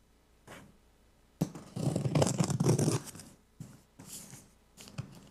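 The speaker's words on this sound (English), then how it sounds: "And get these scissors here." Scissors are handled and shuffled about close to the mic: soft rustling and scraping in several brief bursts, one longer busier stretch in the middle, quiet and with no talk.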